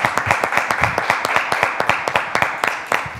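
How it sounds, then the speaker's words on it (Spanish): Applause in a radio studio, a small group clapping steadily with sharp, evenly repeated hand claps throughout, fairly close and alone without talk. "Vamos a darle un aplauso."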